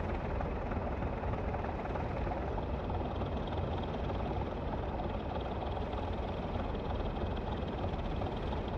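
A train engine in a train simulator game runs under light throttle on a snowy Bristol to Exeter route, giving a steady, continuous low rumble that holds evenly throughout with no talk.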